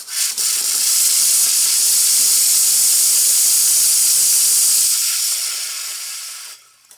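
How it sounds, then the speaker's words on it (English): A Rancilio Silvia espresso machine's steam wand, freshly serviced, blasts a loud, strong, steady hiss for about five seconds, then fades and cuts off. "So I'll do a quick test for you here. Show you the steam."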